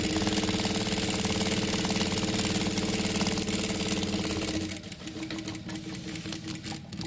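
A sewing machine runs steadily and close, stitching a folding vegetable bag in a continuous mechanical whir, then stops abruptly near the end, leaving only faint rattling.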